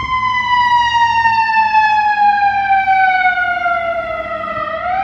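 Ambulance siren on a Chicago city street, a loud, continuous wail that glides steadily in pitch and stands alone for the whole stretch with no talk over it.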